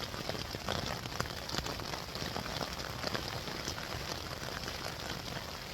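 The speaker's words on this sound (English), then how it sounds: "As you can hear, it's absolutely bollocking it down with rain." Heavy rain falls on a tent at a night camp, a dense, continuous patter of drops drumming close and loud without a break.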